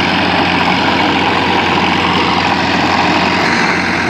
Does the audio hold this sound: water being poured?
no